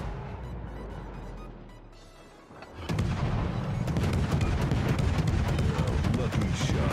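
Cruiser gunfire in World of Warships, from the Tier X premium American cruiser USS Austin: after a quieter start, a loud burst of rapid, booming shots rolls on continuously for several seconds, with talking likely mixed in.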